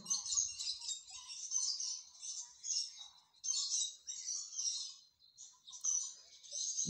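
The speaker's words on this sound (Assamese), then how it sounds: "আমি আপোনালোকক দেখাইছোঁ লাভ বাৰ্ড। আপোনালোকে দেখিছে এয়া, আৰু শব্দ শুনিছে আপোনালোকে" Lovebirds at Guwahati zoo chirp and twitter in rapid, high-pitched bursts, continuous with brief pauses, fairly close and moderately loud.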